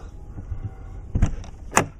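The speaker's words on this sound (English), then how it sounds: "Door closes." The entry door of a fifth-wheel RV swings shut after lock repairs: a few soft shuffles and bumps, then a solid thud of the door meeting its frame, followed by a sharp latch click, close and clear.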